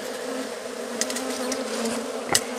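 Honey bees buzzing in a cup during a varroa mite check, a steady close drone of many insects with a few sharper bumps and flicks, no voices.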